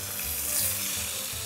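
Tomatoes sizzle and fry steadily in a hot pan for Romanian mountain-style potatoes, a continuous close crackle with no talking.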